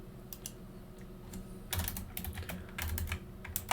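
Router interface configuration being typed on a computer keyboard, a close burst of rapid irregular key clicks that thickens into denser typing partway through, with no talking.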